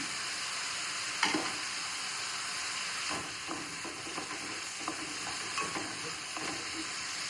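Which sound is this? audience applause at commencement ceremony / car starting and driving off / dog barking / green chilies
green chilies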